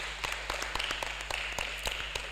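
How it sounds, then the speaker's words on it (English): An audience claps at a medical sciences college's annual scientific conference, scattered hand claps over a steady room hum, moderately distant and not very loud. "So can we just clap for them"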